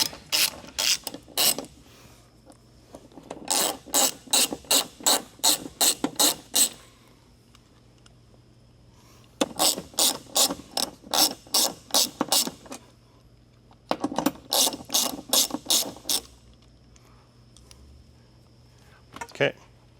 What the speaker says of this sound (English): We're going to go ahead and knock out the seat bolts.